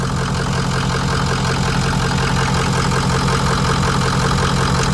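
A 2005 Ford 6.0L Powerstroke turbo diesel engine idles loudly and close by, a steady, even rumble with dense mechanical clatter and no pauses, heard alone without talk.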